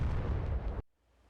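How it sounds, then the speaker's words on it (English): A bomb blast in the DCS World combat flight game, a single close, heavy roaring explosion lasting under a second before cutting off to a faint low rumble. "Bomb."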